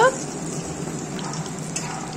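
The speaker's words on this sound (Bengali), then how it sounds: "এখন এক পিঠ ভাজা হয়ে গেছে, উল্টো পিঠটা ভেজে নেব।" Banana flower fritters fry in hot oil with a continuous, close, even sizzle and crackle.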